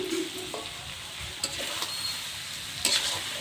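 Diced potatoes and two large tomatoes go into a frying desi chicken curry in a village kitchen. A steady close sizzle runs throughout, broken by scraping stirs and a few sharp metallic clinks.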